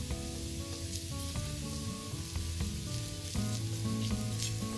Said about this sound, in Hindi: घी इस पे हमारे तवे पे अच्छा सारा है, उसकी सी बढ़िया सी आवाज आ रही है